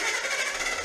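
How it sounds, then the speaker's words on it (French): A generator running in a garage where a Chevy Chevelle is being worked on gives off a steady, loud mechanical drone with a rough, buzzy texture, heard close up for under a second. "J'ai le générateur qui s'allume."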